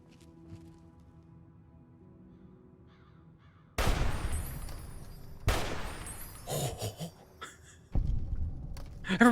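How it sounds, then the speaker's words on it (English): Loud, booming explosions and bursts of gunfire in the video game Fallout: New Vegas, arriving as three heavy blasts separated by quieter stretches of crackling and decaying rumble. "Everybody's exploding."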